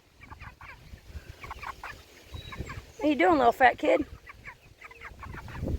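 Chickens cluck and squawk close by, with a burst of louder, excited calls in the middle, while a person speaks softly over them.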